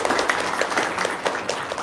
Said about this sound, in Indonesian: tepuk tangan dong dari Sampit.